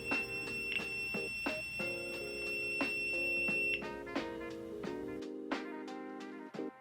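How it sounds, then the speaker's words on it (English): An alarm panel runs its system test, emitting a series of loud repeated electronic beeps and tones in a steady rhythm, with the pitch pattern changing partway through. "Your system will emit a loud test noise."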